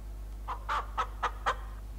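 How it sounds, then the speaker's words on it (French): A hen in the farming video game Ma Ferme 2018 clucks five times in short, evenly spaced calls over a steady low background hum, with no talking. "Elle est où ma poule? Elle est là!"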